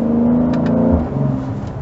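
A Mercedes-Benz GLC 43 AMG with a bi-turbo V6 pulls hard from 2500 RPM, its engine note loud and steady with a rising drone that eases slightly toward the end.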